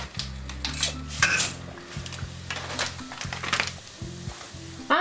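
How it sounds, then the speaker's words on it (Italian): Dry linguine drops into a pot of boiling water with clattering metallic knocks and a bubbling hiss, close by, over steady background music. "L'acqua per la pasta bolle, vado a calare le linguine."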